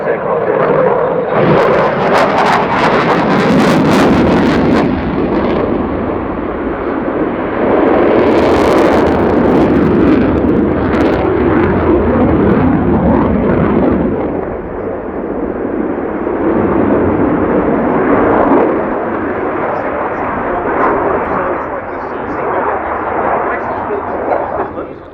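A fighter aircraft performs an air show display, its loud jet roar surging and fading in long sweeps, with a commentator talking over the noise throughout.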